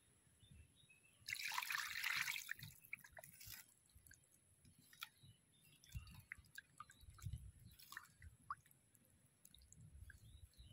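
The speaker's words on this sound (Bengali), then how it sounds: "এবার পরিমাণ মতো জল দিয়ে দেবো" Water splashes and trickles into a pan of firka fish mixed with spices for jhal chochchori, a brief steady pour lasting about a second before soft drips and faint kitchen clatter.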